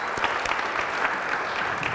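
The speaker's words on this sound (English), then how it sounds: "So another round of applause for our three panelists." An audience claps for three panelists at a county economic outlook event, a brief dense burst of steady applause from a room full of people.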